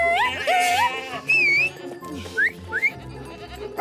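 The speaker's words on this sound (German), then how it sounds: "Ziegen und das auch noch im Haus." Goats bleat in a children's cartoon set in a house, several wavering, high-pitched calls overlapping one another over background music, close and fairly loud.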